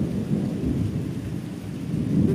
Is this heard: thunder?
yes